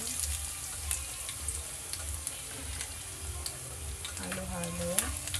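Garlic and mushroom sautéing in a pan while being stirred, a continuous close sizzle with light scraping taps, and a brief faint tonal sound rising in the background near the end.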